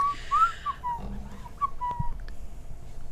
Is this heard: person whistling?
yes